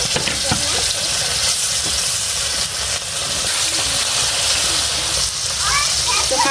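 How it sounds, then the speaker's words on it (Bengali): Fish pieces frying in hot oil in a home kitchen pan for a curry, a steady close broadband sizzle and hiss with a few sharper pops, continuous throughout. "এখন তরকারি মাছটি ভেজে নেই"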